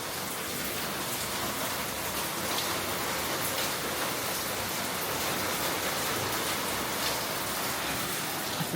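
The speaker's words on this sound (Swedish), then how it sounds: "Det pissar ner på ett sätt." Heavy tropical rain pours down steadily in Bali, a dense, unbroken hiss of downpour drumming on surfaces close by, with no voices over it.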